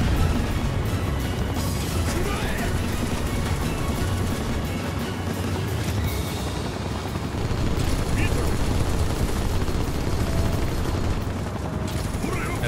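Barret's gun-arm fires in the Final Fantasy VII Rebirth video game, a dense, continuous rattling barrage blended with loud mechanical game noise that runs steadily through the whole stretch.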